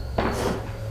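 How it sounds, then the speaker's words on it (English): A door or cupboard in a quiet house is pulled open with a sudden wooden knock and scrape, followed by a short fading creak, heard nearby in an otherwise hushed room. "like a door or cupboard being opened and closed"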